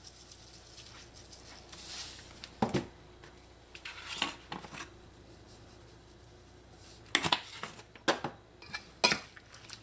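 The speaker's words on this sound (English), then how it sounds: "Give it a mix" Seasonings being mixed in a bowl for shepherd's pie, quiet room with scattered clinks and scraping taps of a utensil against the bowl, brief clusters near the end, no talk.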